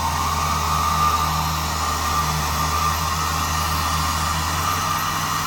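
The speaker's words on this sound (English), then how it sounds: "It's a vacuum planter, so that's why it's so loud." A vacuum planter pulled by a tractor gives a loud, steady mechanical drone with a whooshing air blower and low engine rumble running continuously without letup.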